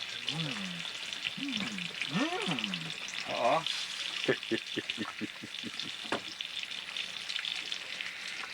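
Butter fries and burns in a pan, giving a steady close sizzle with stirring scrapes. A few voice-like sounds rise early on, then sharp crackles pop over the frying.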